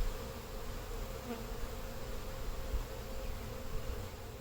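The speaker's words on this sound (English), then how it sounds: "For Brendan, which are Saskatchewan bred bees." Saskatchewan-bred honey bees buzz in a continuous, even drone with a steady hum, close and moderately quiet, with no talking.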